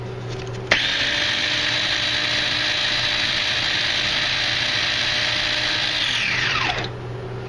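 A food processor runs steadily for about six seconds, its blades whirring loudly at an even pitch with a sharp start, then winding down to a stop, chopping ingredients for a beef stew.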